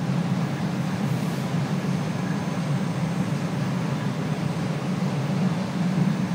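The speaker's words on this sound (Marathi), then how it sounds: "स्वच्छ मोकळी धाकडी सुसाट ट्रेन" A passenger train in Ireland rumbles steadily along with a constant low roar and rattle, heard from inside an uncrowded carriage, with no one talking.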